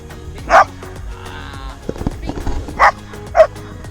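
A dog barks three times up close, sharp separate woofs spaced apart, with quieter indoor shuffling and faint noises between them.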